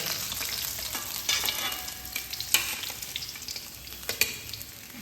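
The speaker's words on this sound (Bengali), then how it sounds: "মাছগুলোকে সব এইভাবে কড়া করে ভেজে দিলাম" Fish, bata, sizzles in hot oil with a continuous crackling hiss, punctuated by a couple of sharp pops and utensil taps.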